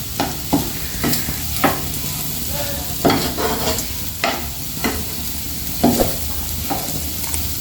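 Onion egg curry fries in a pan under repeated stirring, a constant close sizzle punctuated by rhythmic scraping strokes of a spoon roughly every second, with no talking.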